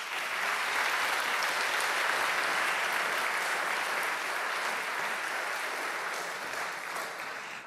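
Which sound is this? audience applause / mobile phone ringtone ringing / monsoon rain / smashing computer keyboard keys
audience applause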